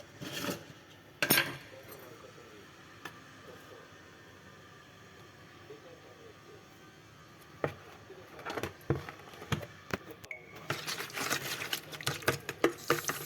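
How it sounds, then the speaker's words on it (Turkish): A spoon stirs a spiced sauce with black pepper, cumin and red pepper powder in a bowl, faint scattered clinks at first, then a busier run of rapid clattering and scraping against the bowl near the end. "sosumuzu güzelce karıştırıyoruz arkadaşlar."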